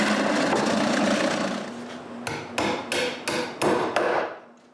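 A drill bores bolt holes in wood in several short bursts, each whir starting and stopping, after a longer continuous stretch of grinding at the start.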